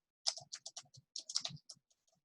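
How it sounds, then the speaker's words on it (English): Quick, crisp keyboard clicks come in two short bursts of typing, close and dry, with a quiet pause between them. "you can just start typing them in"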